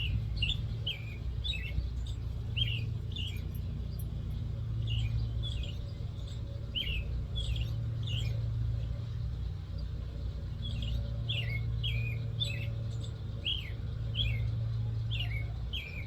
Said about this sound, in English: that's what these birds are talking about.